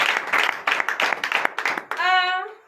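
A church congregation at a prophetic night service in Comè, Benin, claps in quick, uneven bursts for almost two seconds, close and lively, before a single voice rises in a sustained call.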